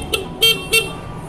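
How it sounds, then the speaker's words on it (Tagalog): A Yamaha Mio Sporty scooter horn gives three short, separate beeps, each close and clear, with a quiet pause between them and no talking. "Yung busina mas malakas kaysa sa Honda Beat."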